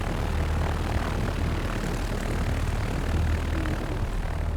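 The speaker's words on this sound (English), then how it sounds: "Listen to that engine sound. I mean, you can actually hear the blades flopping through the wind and everything." A Van's RV-8 piston engine and propeller in a flight simulator drone steadily and loudly, with a dense, even roar and faint blade beat throughout, with no talking.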